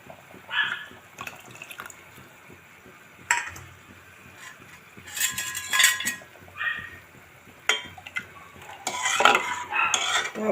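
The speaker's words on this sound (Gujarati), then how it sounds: "તો આપણે મગને હલાવીને થોડીક વખત ચડવા દઈશું." A spoon stirs boiling mung beans in a pot after a spice mixture is added, giving scattered metallic clinks, scrapes and wet sloshing at close range with quiet gaps between.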